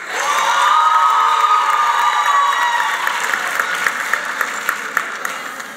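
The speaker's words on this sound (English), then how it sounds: "That's a good thing to applaud those poor faculty" Audience applause and cheering fill a nursing college graduation ceremony hall, a dense, steady wash of clapping with whoops and shouts on top, loudest early and easing slightly toward the end.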